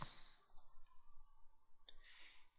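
A sharp mouse click on a Finish button in a Windows Server Update Services setup, followed by a faint second click, quiet and close with light background hiss.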